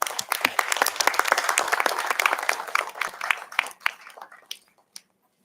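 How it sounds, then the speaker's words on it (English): Audience applause at an academic heritage event after a bouquet is presented to a professor, a dense burst of clapping that thins into scattered individual claps before stopping near the end. "May we have a huge round of applause"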